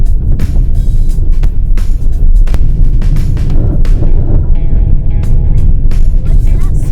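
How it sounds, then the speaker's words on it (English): Loud low road rumble from a Hyundai Palisade on Bridgestone Blizzak tires driving in snow, broken by repeated sharp thumps and spatters as snow and dirt strike underneath. "That's the sound of the snow and dirt hitting the bottom of the car."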